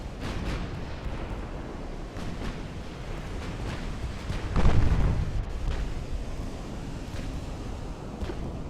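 Distant naval gunfire and shell impacts from pre-dreadnought battleships in Ultimate Admiral: Dreadnoughts, a low rumbling battle bed with one heavier boom of 13-inch hits midway, then continued muffled thuds and surf-like wash.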